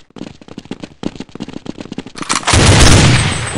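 Rapid bursts of gunfire in Counter-Strike 1.6 on the Dust map, a run of sharp close shots followed by a sustained loud blast of sound in the final second.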